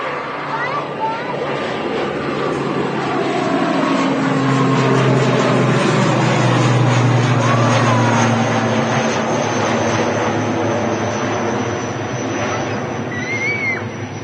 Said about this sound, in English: That ATR departing Manchester here en route to the Isle of Man.